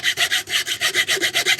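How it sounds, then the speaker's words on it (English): A handsaw cuts through wood in cold weather, about a dozen quick, even back-and-forth strokes with a rasping bright tone, loud and close with no talking. "the reason why I'm hand sawing everything is because it's bloody freezing"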